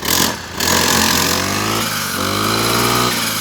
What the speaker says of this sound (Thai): ฟังเสียงเครื่องนะ เสียงเงียบเลยครับ